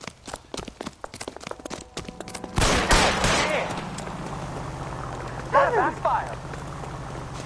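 A car backfires in the 1940s Los Angeles crime video game L.A. Noire, a sudden loud crack that breaks into a stretch of rapid ticking and then lingers as a broad rumble, with scattered later bangs.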